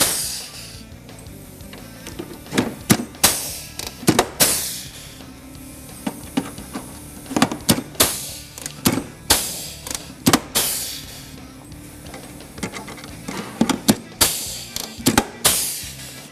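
Rivets being set on an Arctic Cat ProClimb snowmobile chassis, with repeated sharp snapping pops from a rivet tool arriving in irregular bursts, close and fairly loud, with faint mechanical noise between the snaps.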